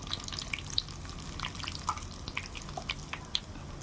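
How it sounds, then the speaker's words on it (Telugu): Tempering seeds, dried red chillies, cashews and curry leaves frying in hot oil, a soft, close crackle of scattered pops and sizzles over a low hiss, with no talking. "తాలింపు గింజలు వేసుకున్నా ఎండుమిర్చి వేసుకున్నా అండి జీడిపప్పు కరివేపాకు కోసి వేసుకున్నా అండి"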